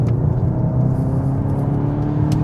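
A Cupra Terramar in performance mode with an automatic gearbox drives along a wet road, giving a steady, close engine hum and a low road rumble without a break.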